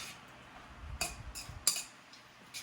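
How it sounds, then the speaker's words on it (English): A utensil clinks against a bowl while stevia is mixed into a marinade for Japanese-style chicken tonkatsu, giving a few quiet, scattered taps and scrapes with pauses between them. "Mix it up really good so everything's well incorporated."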